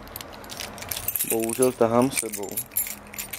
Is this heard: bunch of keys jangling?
yes